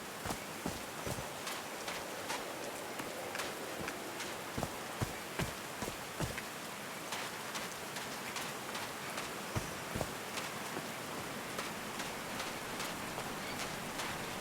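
Rain falls in the video game Call of the Sea, a steady hiss with scattered sharp drips and patters. It plays moderately loud and alone, without voices.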